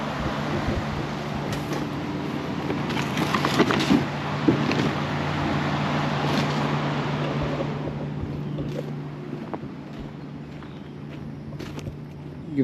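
A BMW four-cylinder engine runs in a Mini, a steady low drone with a constant hum, fairly loud and close, fading slightly toward the end.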